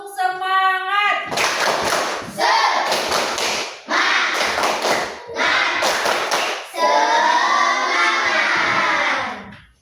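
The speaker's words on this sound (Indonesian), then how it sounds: "Coba, tepuk semangat." A class of fifth-grade pupils does a rhythmic spirit clap, a brief voice at the start giving way to bursts of patterned group clapping and chanting in several loud rounds, ending in a sustained shout.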